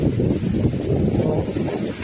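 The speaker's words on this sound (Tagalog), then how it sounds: "Taas ng hangin dito" Strong typhoon wind gusting outdoors during Typhoon Uwan, a dense continuous roar buffeting the microphone with rustling debris, loud and unbroken throughout with no talk.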